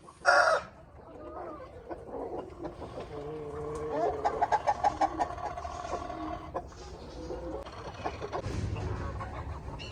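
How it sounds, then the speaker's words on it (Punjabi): Poultry farm roosters crow and hens cluck and squawk in a busy flock, with a loud burst near the start and repeated calls throughout. "ਸਾਰੇ ਪੋਲਟਰੀ ਫਾਰਮ ਵਾਲੇ ਮੁਰਗੇ ਤੇ ਮੁਰਗੀਆਂ"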